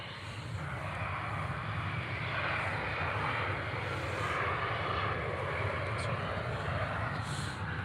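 An EasyJet airliner taxis at Newcastle Airport in windy weather, its jet engines giving a steady, broad roar at a moderate distance that holds even from start to finish.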